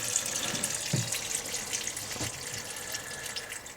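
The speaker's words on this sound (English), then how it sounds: "so we drain this thing out like that" Water runs out of an inboard boat motor during winterizing, a steady splashing trickle with a few deeper gurgling drips, fairly close and with no talk.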